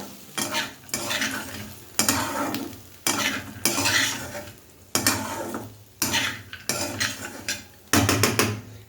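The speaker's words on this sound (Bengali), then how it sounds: "এবার ভালোভাবে আরেকবার মিশিয়ে নিলাম" A potato and cashew fry dressed with lemon juice is stirred in a pan, with a spatula scraping and tapping in a regular rhythm of about one stroke per second over a soft sizzle, close and fairly loud.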